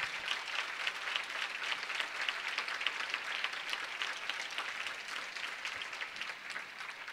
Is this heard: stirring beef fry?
no